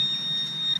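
A metal detector emits a steady, thin high-pitched beep, faint and continuous for under a second with a brief flutter at the end.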